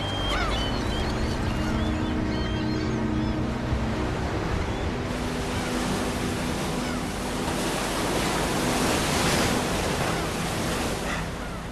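Sea waves breaking on the shore, a loud, continuous wash of surf with no pauses, heard alone without voices.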